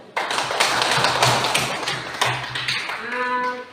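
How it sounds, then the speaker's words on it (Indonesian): A class of students claps for a presenting group, a burst of many close hand claps running steadily for about three seconds, then tapering as a voice begins to speak. "mari kita tepuk tangan untuk kelompok 3. Kita tepuk tangan dulu"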